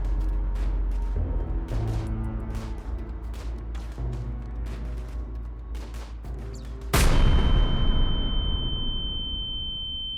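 Combat in Rimworld: scattered sharp gunshots crack over a low rumble before a sudden loud explosion bursts and dies away, leaving a thin high ringing tone.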